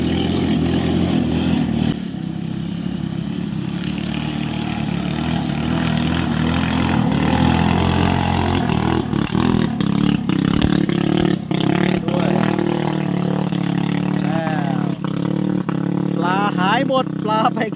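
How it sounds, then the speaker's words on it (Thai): A motorboat engine on a river drones steadily and loudly at close range, a low rumbling hum that persists throughout with some clattering over it. "โน่นเรือยนต์มาแล้ว"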